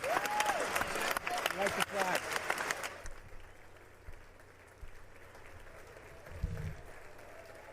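Loud applause fills a State of the Union chamber for about three seconds, then fades to a quieter room while someone talks over it.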